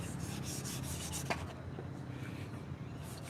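Lacquer finish rubbed by hand onto the back of a reclaimed wood rustic letter and key holder: a steady, continuous close-up rubbing and scrubbing with one sharper scrape partway through.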